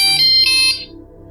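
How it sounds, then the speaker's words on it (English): A wake-up alarm goes off with a shrill, electronic beeping tone that is loud at first, then fades away after under a second, with no voices. "that was my alarm to make sure I got up for this"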